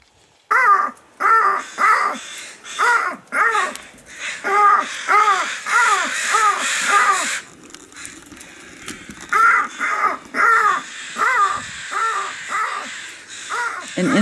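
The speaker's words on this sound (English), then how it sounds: "Only Coffin Cove crows respond" Coffin Cove crows in Alaska cawing back to a call on a quiet afternoon: bursts of loud, harsh caws in quick rhythmic runs, several birds overlapping, with short pauses between volleys.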